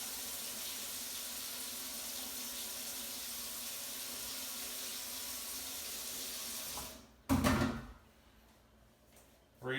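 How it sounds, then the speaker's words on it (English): A kitchen tap running warm water in a steady rushing stream, then shut off with a brief clunk and quiet afterward. "Warm water all the way up"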